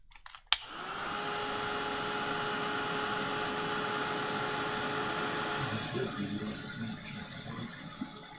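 A heat or craft dryer blows on paint on a decorated file folder, switching on with a click and then holding a loud, steady, close whirring hum with a faint whine for the rest of the clip.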